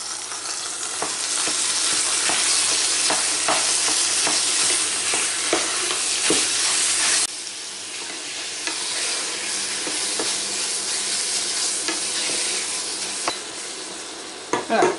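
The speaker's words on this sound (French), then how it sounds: "Dans une casserole, on va venir faire cuire nos steaks hachés ou notre viande hachée." Minced beef sizzles steadily in a saucepan for a bolognese, with scraping stirs and light utensil clicks over the constant frying hiss, which drops slightly in level partway through.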